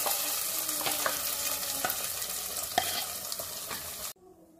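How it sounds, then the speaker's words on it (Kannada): Ground masala paste added to a hot tempering with curry leaves, sizzling and frying loudly and steadily with occasional stirring clicks, then cutting off abruptly near the end. "ಈ ಒಗ್ಗರಣೆಗೆ ನಾವೀಗ ರುಬ್ಕೊಂಡು ಇಟ್ಕೊಂಡಿರೋವಂಥ ಮಸಾಲೆನ ಸೇರಿಸ್ಕೊತಾ ಇದ್ದೀನಿ"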